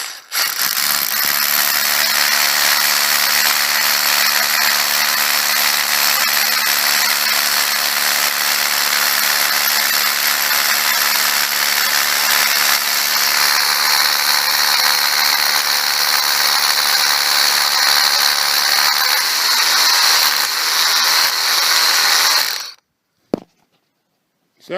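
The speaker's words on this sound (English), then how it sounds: "So we'll just drill one hole right down here in the corner of this outcrop" A rock drill bores a hole into the corner of a rock outcrop, running loud and continuous for over twenty seconds before cutting off abruptly.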